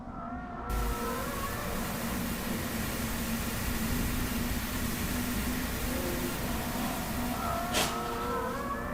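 A stolen car's engine roars steadily as it speeds away during reckless driving: a sustained, loud rush of noise with no break.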